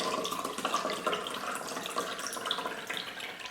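Liquid splashes and trickles steadily into a glass, a close, continuous bubbly pour with no talking.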